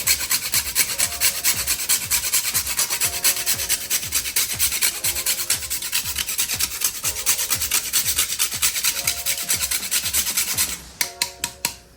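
Nutmeg is grated by hand in quick, steady rasping strokes, close and continuous, slowing to a few last scrapes at the end.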